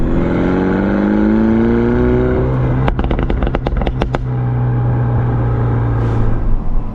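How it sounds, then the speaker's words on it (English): A Mini John Cooper Works with the JCW Pro exhaust and standard cat revs with a deep grumble, then a rapid burst of loud crackling pops and bangs before settling back to a steady idle. "It's got that nice grumble to it, and it's got nice pops and bangs that you want."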